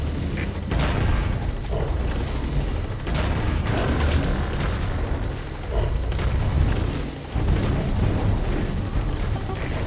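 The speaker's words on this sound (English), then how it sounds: "All right, the chopper's touching down." Helicopter in Metal Gear Solid V touching down, a loud sustained rotor roar and rumble with booming low thumps, steady throughout with brief dips, no talk over it.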